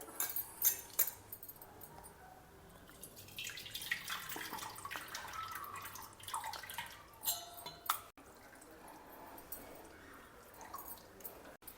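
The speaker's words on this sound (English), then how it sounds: "Now just squeeze out the tamarind like this and extract a thick pulp." Soaked tamarind squeezed by hand in water to draw out thick pulp, giving wet squishing and dripping sounds, close and fairly quiet, in irregular bursts.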